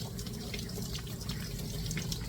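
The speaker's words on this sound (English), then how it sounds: "And then rinsing the back of her head and all around." Water runs steadily while a dog is rinsed during a grooming bath, a soft continuous splashing stream with no pauses, fairly faint and with no voices.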